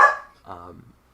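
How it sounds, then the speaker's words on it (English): A corgi gives a sharp close bark followed by a softer, shorter yelp, two quick dog sounds in a quiet room. "My dog is barking, so it's been kind of hard."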